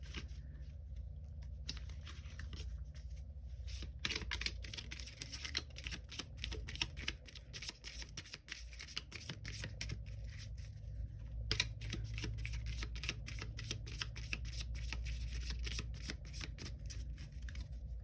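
Tarot cards being shuffled repeatedly, a steady stream of crisp riffling and flicking close by, with brief pauses between bursts.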